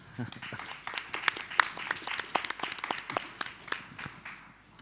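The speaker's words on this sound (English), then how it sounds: "Please give him a round of applause." Conference audience at a defence innovation event applauds a speaker, a burst of dense hand clapping that swells and then tapers off, with some voices mixed in.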